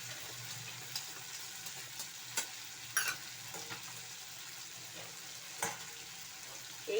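Pointed gourd and paneer masala is stirred in a pan, a soft, quiet sizzle under intermittent scraping and clinking of the spatula, with no talk.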